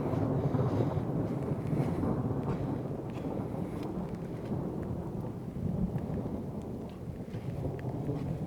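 Thunderstorm rain pours steadily near a cabin in Holcomb Valley, a dense low rumble of thunder and wind buffeting the microphone, continuous and fairly loud with no voices.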